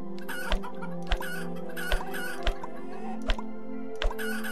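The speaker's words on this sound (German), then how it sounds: "Ah, Hühner, geht einfach weg." Chickens in the video game Planet Centauri cluck about six times, each a short, regularly spaced, clicky burst over steady game music, and no one talks.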